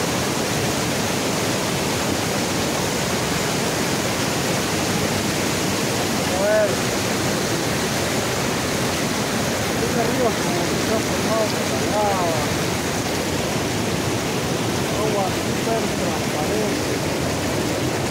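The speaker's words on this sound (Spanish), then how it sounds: "Agua." Water rushes loudly and continuously at Puerto Fuy by Lake Pirihueico in Chilean Patagonia, a steady broadband roar like a stream or small waterfall close by, filling the whole stretch with little variation and a few faint higher calls over it.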